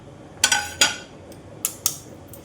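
A knife cutting boiled potatoes, a handful of short crisp chops and clicks in two loose pairs against a quiet background, close and sharp, no voices.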